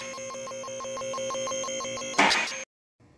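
A two-post lift raises a Tesla Model S in a garage with a steady electric motor hum that swells, ends in a brief hiss, then cuts off into silence.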